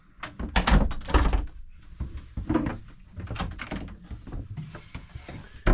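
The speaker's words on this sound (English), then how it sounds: "The door." A boat cabin door is handled with a series of knocks, thunks and creaks, followed by a soft latch click and light rattling, close up with no talking.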